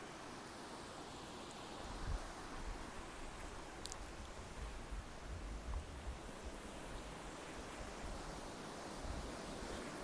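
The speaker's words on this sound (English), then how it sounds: "But we have water coming through here and it's a lot compared to usual. There's actual flow to it" Water from a long-standing spring flows out of an earth bank in a steady, broadband rush, close and continuous for the whole stretch with no talking.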